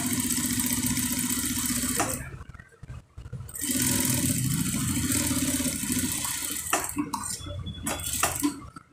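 A sewing machine stitches a shirt collar, running steadily up close in two long bursts with a short pause between them and a few clicks near the end.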